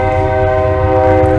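Train rolling past beside a railroad in wooded Klickitat County, Washington, a steady loud tonal drone with horn-like harmonics held throughout, close by and without talk.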